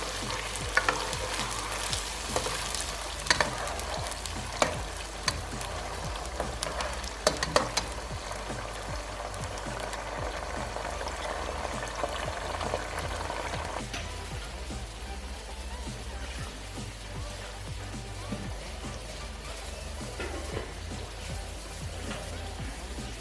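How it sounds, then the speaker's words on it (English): Tomato paste frying in a pot for jollof rice with fish, a steady soft sizzle with scraping stir strokes that fade after the first half, continuing quietly alone. "So we're gonna fry that for a couple of minutes."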